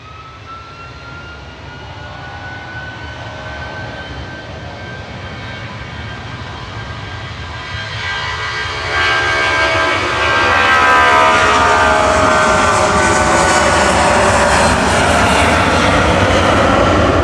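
Jet airliner departing Manchester Airport: a loud, near roar that swells steadily over about seventeen seconds and peaks toward the end, heard alone without voices.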